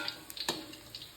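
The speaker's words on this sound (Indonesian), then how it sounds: "Lanjut kita goreng tempe sampai mateng ya." Tempeh fries in hot oil with a faint, continuous sizzle, interrupted by a couple of brief stirring clicks.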